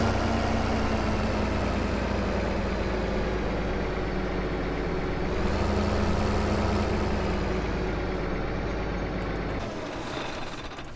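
A tractor engine runs steadily in Farming Simulator 15 with a loud, continuous low drone and a slight shift in pitch midway. It drops off abruptly near the end.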